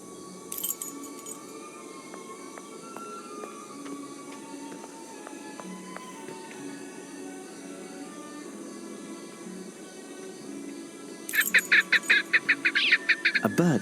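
Bird calls in the Sherlock Holmes versus Arsene Lupin video game: scattered thin chirps and whistles over a steady ambient background, ending in a loud, rapid burst of repeated calls.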